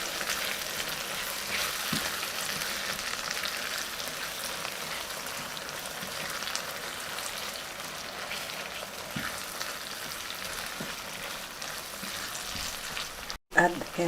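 Shrimp paste and tamarind fry in a pan with a soft, continuous sizzle and occasional scraping stirs, fairly quiet throughout and without talk.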